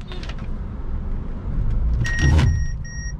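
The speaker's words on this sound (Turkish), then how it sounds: "Evet, şu anda ani freni görmüş olduk." A 2020 Mercedes GLA makes a loud low rumble that swells as it brakes suddenly, with a brief surge of noise and then repeated high electronic warning beeps inside the cabin.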